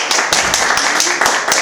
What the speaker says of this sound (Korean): 우리 박수 한번 쳐드리게요